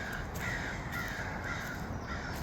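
Several crows in a murder caw repeatedly outdoors, their harsh calls coming in a loose rhythm over steady background noise.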